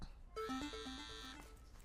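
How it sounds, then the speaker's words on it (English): A melodic phone ringtone chimes in a short tonal sequence of rising and falling notes in the otome game Love Starved, clear and close, fading quickly. "the brief silence between you is broken by an insistent ringing"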